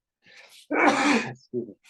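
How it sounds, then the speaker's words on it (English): A single sneeze from a man partway through an interview: a short, breathy intake followed by one loud, explosive burst and a brief trailing sound, close to the microphone. "I'm gonna sneeze here."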